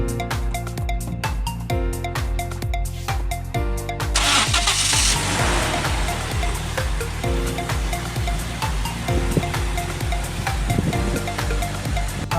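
A boat engine near Bin Ghanam Island, Al Khor, cranks in short repeated bursts, catches and settles into a loud steady running drone over rushing water, with no voices.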